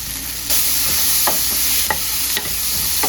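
Garlic frying in a pan gives a loud, continuous close sizzle, with a few sharp scraping stirs of a utensil cutting through at intervals.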